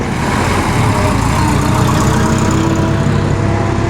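A Duesenberg car engine at the Pebble Beach Concours, a loud steady low rumble running without a break, close by, with no voices.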